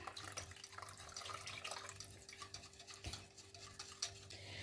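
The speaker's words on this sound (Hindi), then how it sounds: "विस्कर की मदद से साथ साथ इसे हम मिक्स करते रहेंगे" A mixture of cream, milk, sugar and oil is whisked in a bowl, giving faint, quick wet clinking and swishing strokes in an irregular rhythm, low and close.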